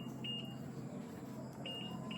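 ALVA N3 electric motorcycle alarm giving short electronic beeps: two quick double-beep bursts, high and thin, heard faintly over a low steady hum.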